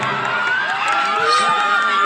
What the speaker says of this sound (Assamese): এটি বিশাল হাত চাপৰি অভিবাদন জনাবলৈ অনুৰোধ জনালোঁ